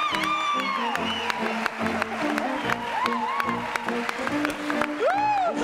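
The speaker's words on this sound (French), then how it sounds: "Charlie Nestor, applaudissements." A TV studio audience applauds a newcomer on a French variety show, dense rapid clapping running throughout alongside sustained musical tones, with brief vocal whoops rising above.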